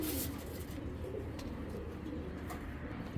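Giribaj pigeons coo softly at close range, low repeated calls over a faint background hum, no voices.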